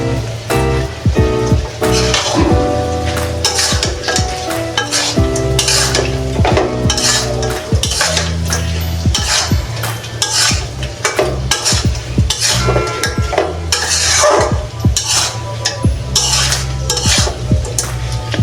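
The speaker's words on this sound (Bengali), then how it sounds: "এখন আমি এই ইলিশ মাছের টুকরোগুলো যে ভেজে রেখেছিলাম আচার করার জন্য, এখন আমি এগুলো দিয়ে দেবো সবটা।" Fried hilsa fish pieces are tossed into a sizzling spice paste for pickle, giving a loud, continuous frying crackle with repeated utensil scrapes and clinks against the pan throughout.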